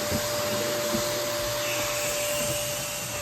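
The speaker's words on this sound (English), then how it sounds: "There is vacuuming going on here." A vacuum cleaner runs nearby with a steady, even whooshing roar and a constant high motor whine, unbroken throughout and with no talking, inside or around a 1973 GMC motorhome.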